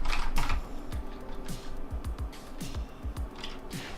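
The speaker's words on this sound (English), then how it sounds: "Just like tapping away at the keyboard that's not even like plugged in?" Fairly quiet typing on a Cooler Master MasterKeys Lite L mechanical keyboard, not plugged in, with steady irregular key clicks and taps tapping away at close range.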